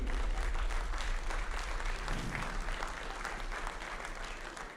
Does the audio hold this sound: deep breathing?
no